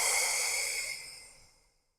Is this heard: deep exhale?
yes